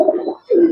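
A pair of Giribaz (Silver Giribaz) pigeons cooing close by, two low, soft coos separated by a brief pause.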